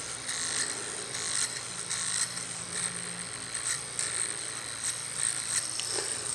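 A Phomemo tattoo machine from a budget kit runs at 4 volts, giving a steady, fairly quiet high-pitched buzz with a light rhythmic pulsing and no voices.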